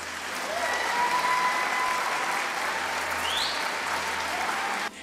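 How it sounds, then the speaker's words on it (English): An audience gives a sustained round of applause for Shin, steady and dense from start to finish, with a faint voice briefly audible under it before it cuts off abruptly near the end. "give Shin a much deserved round of applause"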